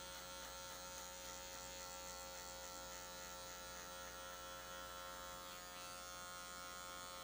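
An electric hair clipper buzzes continuously while fading a haircut, a steady close mechanical hum with no pauses or talk.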